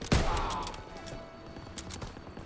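Gunfire from a weapon in Call of Duty WWII: one sharp, loud shot up close, then a ringing tail, and a few fainter distant shots later.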